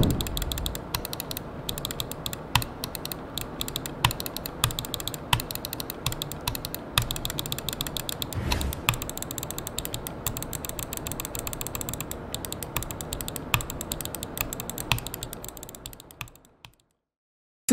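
Rapid crisp clicks from the switches of a SteelSeries Aerox 3 Wireless gaming mouse, pressed repeatedly in a fast, uneven rhythm, close and isolated, with no talking, before stopping abruptly.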